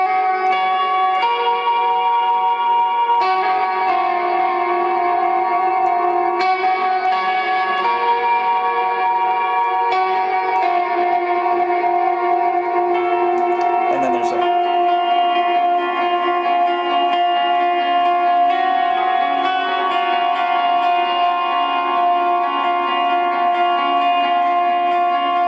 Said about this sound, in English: It's almost like a shimmer reverb